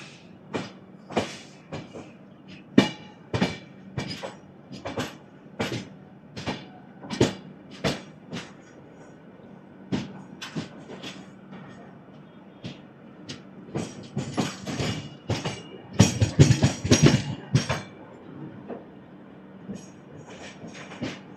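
The Howrah–SMVT Bengaluru Duronto Express 12245 runs along the line, heard from inside with a steady rumble and repeated sharp clicks and clacks of the wheels, thickening into a denser rattle near the end.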